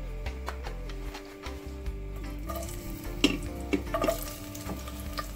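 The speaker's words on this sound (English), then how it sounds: "All right now, just to cook up the ackee." Ackee cooks in coconut oil in a pan, making a close, steady sizzle with repeated stirring scrapes and clinks against the pot, growing busier in the second half, with no talking.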